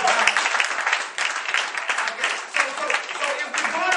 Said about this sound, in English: somebody clap your hands and give God some praise.